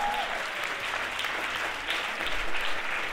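An audience in a hall bursts into applause, a dense, steady wash of clapping that holds evenly throughout.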